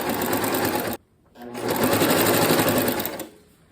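A sewing machine rattles along the edges of a quilt in fast, steady stitching bursts, stopping briefly for about half a second before running again, close and loud.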